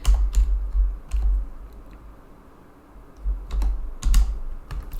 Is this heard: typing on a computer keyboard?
yes